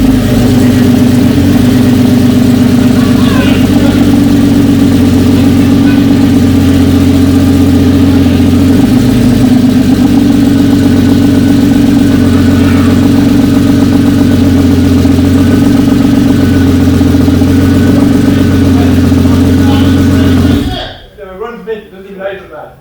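A turbocharged BMW E36 328 with an M52 straight-six idles steadily and loud for about twenty seconds on its first start after a build, a constant low drone, then cuts off abruptly, leaving faint voices in the background.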